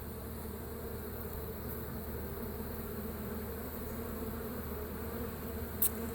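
A steady swarm of honeybees buzzing during a hive removal, a continuous low hum close by, with one faint tap near the end.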